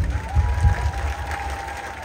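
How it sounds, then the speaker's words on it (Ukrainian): Crowd applause at an outdoor military orchestra and ballet concert in Lviv's Rynok Square for Ukraine's Flag Day, a dense steady clapping of many hands across a large audience, with a faint tone lingering underneath. "ваші оплески"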